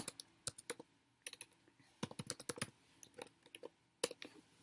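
Fast, uneven keystrokes on a computer keyboard come in bursts of crisp clicks with short pauses, close and fairly quiet, and no one speaks.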